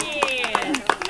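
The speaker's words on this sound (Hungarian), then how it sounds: "Tapsoljuk meg a Lucát!" A small audience claps for a child at a children's cycling award, with a few uneven claps standing out over a voice speaking.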